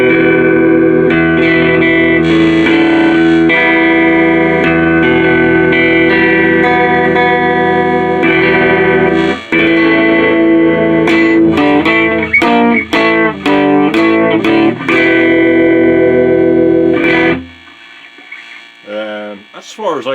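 An electric guitar plays through a Purist barrel tuner with the EQ switched on, sustained chords ringing loud and clear, then a quick run of staccato plucked notes before cutting off into near silence.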